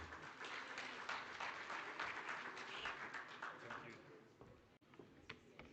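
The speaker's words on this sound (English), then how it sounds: "Let's give him a round of applause." Sustained applause from a conference audience at an oil and gas industry event in Namibia, a steady wash of many hands clapping that fades slightly near the end, with some talk mixed in.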